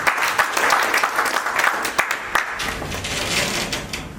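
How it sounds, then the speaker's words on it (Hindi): Audience applause at a network marketing seminar, a loud, sustained burst of many hands clapping close by, with a few sharper peaks and no talking over it. "तालियां दें"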